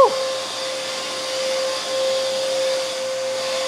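A RIDGID 16-gallon 5.0 peak HP wet/dry shop vacuum runs loudly and steadily close by, a sustained whine with a strong high tone throughout.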